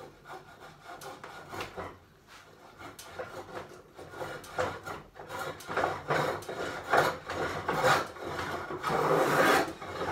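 A rebate plane cutting a rebate and small chamfer along a wooden edge, giving repeated rasping strokes that build in loudness and pace, each a short hissing shave close by.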